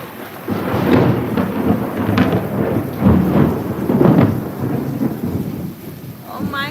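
Deep rolling thunder swells and rumbles in several waves over the steady wash of a rainstorm, loud and booming, with no voices.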